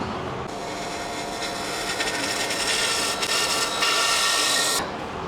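A wood lathe turns a lidded rice bowl, the tool cutting with a sustained, loud scraping hiss that begins abruptly, holds steady with slight surges, then stops near the end.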